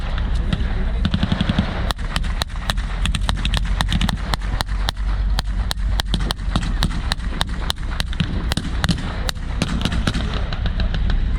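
Gunfire at an airfield battle reenactment comes as rapid irregular bursts of sharp, loud shots, some in quick strings like automatic fire, over a constant rumble of background noise.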